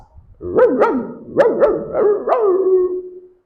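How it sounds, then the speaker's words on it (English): A dog barks in a quick run of five or six loud, close barks, some with a yelping, slightly howling tail, spread over about three seconds with no talk. "you refer to that animal as dog."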